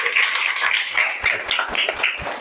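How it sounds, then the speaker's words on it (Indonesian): Students in a classroom clap their hands together, a dense group of quick, overlapping claps forming a steady, close round of applause that holds for a couple of seconds. "Tepuk tangan."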